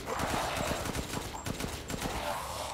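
Gunfire in the Resident Evil Village video game, a rapid run of sharp repeated shots in quick bursts, fairly loud and close, with game sound effects around them.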